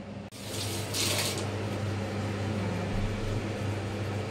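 Chicken pieces cooking in a pan as they release their water, a steady close sizzling hiss with a brief bright spitting burst near the start and a constant low hum underneath.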